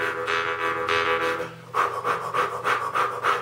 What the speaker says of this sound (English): Tighten up your tummy and go, and that's your diaphragm breathing there